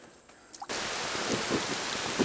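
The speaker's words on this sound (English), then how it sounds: "It's pouring rain on our little river trip." After a brief quiet moment, heavy rain suddenly pours down on a canoe trip on the Apalachee River, a dense steady roar with a few louder splashes, close by.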